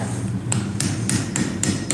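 A hammer taps a mini axe handle into the head in a steady rhythm, seven sharp close knocks evenly spaced about a quarter second apart.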